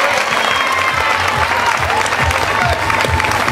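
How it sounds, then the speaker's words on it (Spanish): Sustained applause from a crowd, steady clapping filling the whole stretch with a dense, lively texture. "Fuerte el aplauso"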